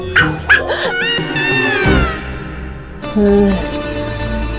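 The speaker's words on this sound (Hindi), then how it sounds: "ये कुत्ते की आवाज कहाँ से आ रही है?" A small dog yips and whimpers in short high-pitched bursts over a busy background of music and voices, fairly loud and close.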